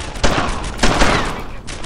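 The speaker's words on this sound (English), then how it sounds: "Put your fire there! Start firing there!" Sustained gunfire from the World War II shooter Brothers In Arms: Earned In Blood, a dense, loud fusillade with heavier bursts near the start and middle over a steady background of shots.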